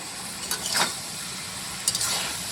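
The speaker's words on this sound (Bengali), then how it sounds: "এই 2টো টমেটো কুচি দিয়ে দিচ্ছি।" Chopped tomatoes going into a cabbage and fish-head curry in a pan: a steady low sizzle with two brief clattering scrapes as they are added and stirred.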